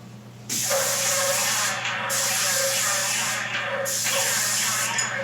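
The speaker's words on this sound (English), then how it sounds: "I will increase our sprayer pressure." A Graco SaniSpray HP 130 sprayer shoots sanitizer in a loud, steady, close hiss that starts abruptly and runs for about five seconds, with brief dips in intensity as the gun moves, and no talk over it.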